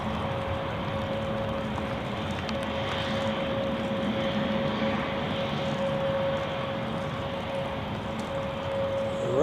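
An airliner takes off from Zurich Airport bound for Lisbon, a steady distant jet roar with a constant whine that holds evenly and swells slightly toward the end.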